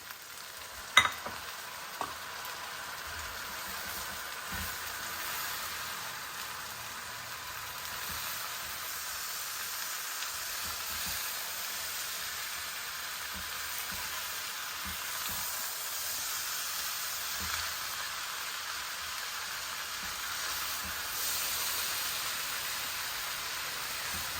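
Green beans and tomatoes fry in a pan, giving a steady hiss and sizzle that runs throughout, with a few brief clatters near the start and no talking.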